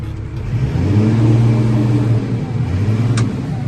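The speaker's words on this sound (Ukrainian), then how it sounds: "Як, щоб ви почули, він працює двигун" A 2006 New Holland TS125 tractor's diesel engine runs steadily nearby, a deep droning rumble that rises slightly then eases, with no talking.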